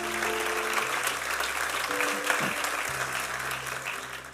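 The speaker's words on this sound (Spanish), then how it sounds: "Denle un aplauso al Señor." A church congregation applauds, a broad wash of clapping at moderate level with low sustained organ or keyboard tones underneath, thinning slightly toward the end.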